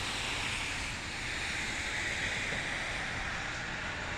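Strong wind roars steadily through a snow squall with whiteout conditions in Poughkeepsie, New York, a broad continuous rushing noise buffeting the microphone without pause.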